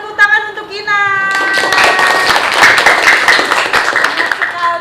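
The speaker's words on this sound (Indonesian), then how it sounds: "beri tepuk tangan untuk Kinan." A classroom of students applauds a classmate, with a brief voice at the start followed by several seconds of dense, steady clapping that stays loud and close throughout.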